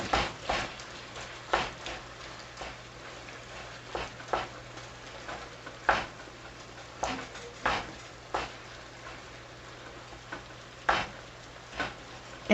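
Ground meat with freshly added onion sizzles steadily in a pan, a continuous fry hiss broken by periodic louder scraping and stirring strokes about every second, close and unaccompanied by speech.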